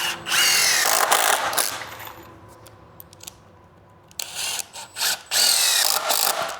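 A power drill drives screws into the wooden frame of a chicken coop. There are two long, loud, close whirring bursts separated by a quieter gap with a few short clicks and taps.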